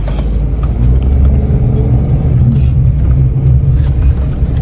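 A car engine running during an Eid outing as a young driver takes the wheel for the first time. A loud, steady, deep rumble continues without a break and no one speaks.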